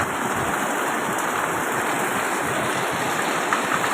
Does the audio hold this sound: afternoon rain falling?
yes